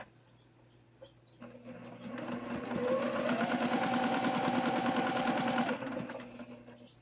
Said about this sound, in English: I'm going to sew a 1/4 inch seam right down through here to put these two together.